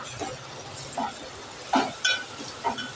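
Turmeric, garam masala, Agri masala and Kashmiri red chili powder being stirred in a pan: a few scattered spoon scrapes and light clinks over a faint, soft sizzle, with no one speaking.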